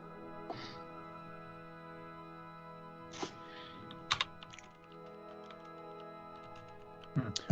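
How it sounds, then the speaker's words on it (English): Sparse, soft clicks of typing on a computer keyboard come in scattered taps and short clusters over a steady background hum, with no talking heard. "type back and forth. Typing, folks."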